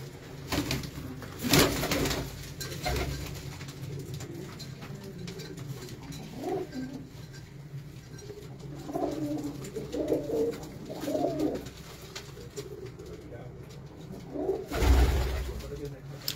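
Pigeons coo softly on a rooftop in Multan, several low repeated calls scattered over the stretch, with a brief wing flutter, distant background noise and people talking at times.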